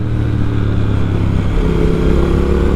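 A Triumph Speed Twin motorcycle's 1200cc engine pulls hard with plenty of low-end torque, a loud, steady low rumble that shifts in pitch partway through as it accelerates, with wind rush over it.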